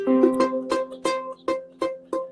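A ukulele strummed repeatedly, about seven chords in a steady rhythm, each with a buzzy, slightly muted edge from badly placed fingers instead of a clean ring.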